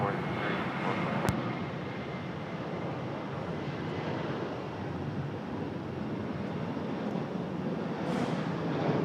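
An Airbus A321 jet at Raleigh-Durham airport gives a steady, distant engine roar that holds level for several seconds, broadband and unbroken, with faint wind rumble beneath it and no clear talk.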